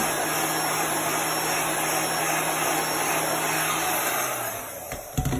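A heat tool set to blow unheated air runs as a steady, close whooshing drone, then winds down near the end with a few clicks as it is handled.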